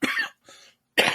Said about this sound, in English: As I die here coughing.